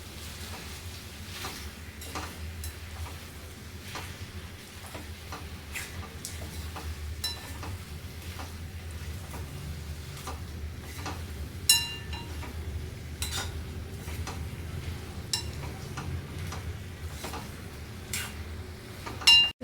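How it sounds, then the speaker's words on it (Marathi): A spatula stirs fried paneer and spring onion in a pan, with light scraping and scattered sharp metallic clinks over a soft sizzle. "मस्त हलवून घेऊया."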